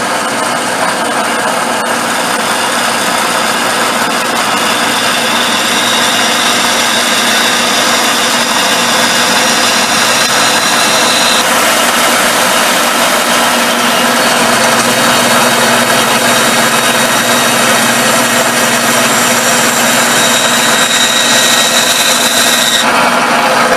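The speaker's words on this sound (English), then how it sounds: "I come over to my bandsaw and I'll turn it on" A bandsaw runs steadily as it cuts a groove down the center of a wooden handle, a loud, continuous whine and rasp close by, with no voices.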